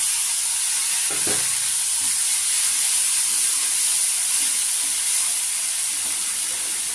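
Dried red chillies and nigella seeds sizzling in hot oil as a tempering for a spicy pomfret fish curry: a loud, dense, steady crackling hiss close by, with a brief stir near the start.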